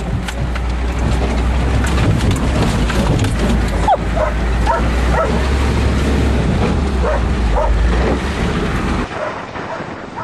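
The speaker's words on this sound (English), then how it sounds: "Fucking dog doesn't give up." A dog barking outdoors near a Ford F-250 diesel truck out mudding, a few sharp barks buried under loud, constant wind and engine rumble.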